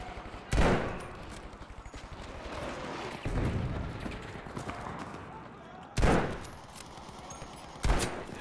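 In the Battlefield V shooter game, rapid automatic gunfire rattles continuously, broken by several loud, sharp blasts that stand out above the steady firing.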